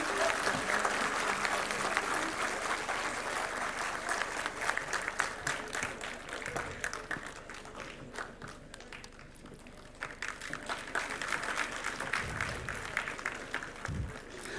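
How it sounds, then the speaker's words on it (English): Audience at a university foundation day and convocation ceremony applauding steadily for a medal recipient, a dense wash of clapping from a large hall that continues throughout with occasional thumps. "please give a big round of applause for him"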